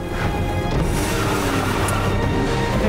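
A loud, dense crash fills the scene in a movie car chase, with a car slamming into something. Broad smashing noise holds steady for a few seconds with no voices.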